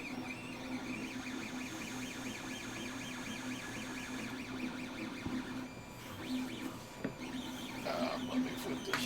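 Anet ET5X 3D printer running a print, with stepper motors whining in rising and falling warbling tones over a steady fan hum, close and continuous, with a few clicks and knocks toward the end.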